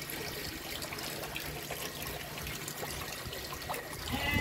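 Water trickles out of a perforated drainage pipe beside a garden pond. The flow is a soft, continuous dribble, faint and steady, and it swells slightly near the end. No one speaks.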